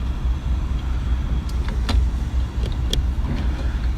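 Road traffic rumbles steadily in the background at a waterfront, a continuous low hum of passing cars with a few brief higher clicks and squeaks on top, no voices.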